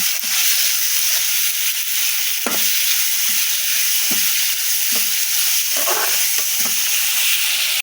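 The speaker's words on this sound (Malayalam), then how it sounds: "ഇതാ കടലക്കറിക്കുള്ള സബോള വഴറ്റിക്കൊണ്ടിരിക്കുകയാണ്." Onions for chickpea curry sautéing in a pan, a loud continuous hissing sizzle close by, broken by several soft knocks and scrapes of a stirring spoon, no speech.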